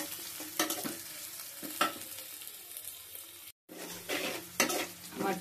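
Cardamom, cinnamon and garam masala fry with chopped onion and garlic in a pan, a steady close sizzle broken by repeated stirring scrapes and one brief silent gap.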